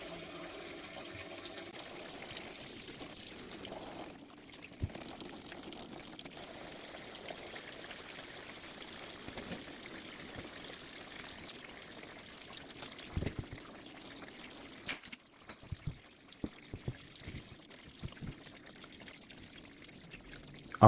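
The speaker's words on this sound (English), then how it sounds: "now all the oil is coming out very easy and fast" Transmission oil pours out of a Mercedes-Benz 7G-Tronic automatic gearbox in a steady, fairly quiet stream, trickling continuously with small drips and clinks near the end.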